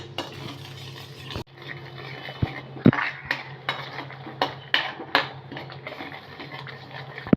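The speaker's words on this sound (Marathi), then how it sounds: "आता हे पण आपण दही मसाल्यामध्ये दोन तीन मिनटं परतून घेणार आहोत" Curd and spice masala being sautéed in a pan, a spoon scraping and clinking against the metal over a low steady hum, with several sharp stirring knocks spaced through the passage and no talk.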